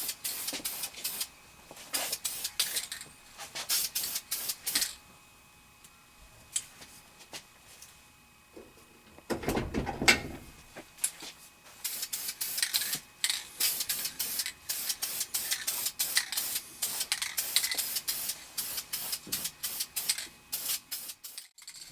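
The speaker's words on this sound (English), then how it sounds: "Started getting some paint on these heads now." Short bursts from a spray can hiss over Harley-Davidson Ironhead engine heads in quick repeated passes, with a brief gap and a low knock midway before the spraying resumes.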